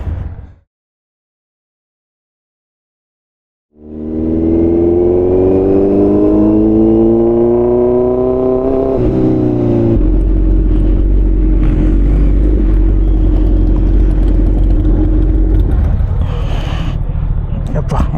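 A Harley-Davidson Roadster 1200 motorcycle fitted with an Arrow full exhaust system starts after a short silence, then revs loudly with rising and falling engine tones and settles into a steady, close, heavy rumble.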